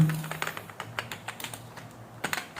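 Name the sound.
typing code on a computer keyboard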